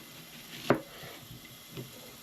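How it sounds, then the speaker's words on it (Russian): A knife chops an onion into half-rings on a cutting board while cooking Korean bibimbap, with one sharp, close chop followed by a fainter second cut against a quiet kitchen background. "полукольцами просто нарежем"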